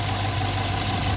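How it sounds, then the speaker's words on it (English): A Hemi V8 engine idles with its characteristic tick, a steady low mechanical drone heard up close that cuts off abruptly near the end. "And then you'll hear the famous Hemi tick."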